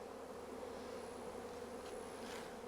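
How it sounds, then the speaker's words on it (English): Honey bees swarm around busy production hives, a dense continuous buzzing drone that stays steady and fairly faint throughout, with no voices. "It's just nuts how busy these bees are."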